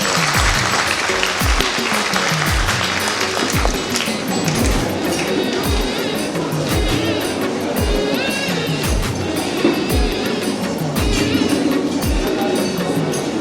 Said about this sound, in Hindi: इनका जोरदार तालियों से स्वागत है।